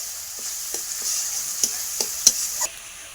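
Ginger paste and onions sizzle steadily in hot oil as a spoon stirs through them with a few light scrapes and taps; near and continuous, with no voices.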